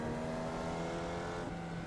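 A race car in the iRacing sim roars steadily with a dense, continuous engine drone, holding a high pitch throughout with no talk over it.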